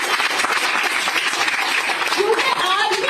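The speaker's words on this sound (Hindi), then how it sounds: "सबसे पहले तो आपके पेरेंट्स के लिए तालियां" An audience of students claps for their parents at a gathering, a moderate, steady patter of applause running under someone speaking to the group.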